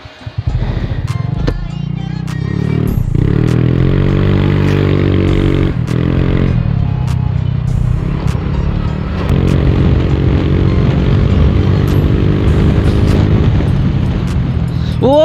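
A modified motorcycle with an aftermarket exhaust, ridden on the road: a loud continuous engine drone with rising and falling revs, laced with sharp popping and crackling bursts throughout.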